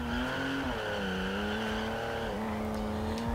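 A loud, meaty car engine from the Forza Horizon 2 racing game holds a steady drone, its pitch dipping and climbing slightly as the car cruises, with no talk over it.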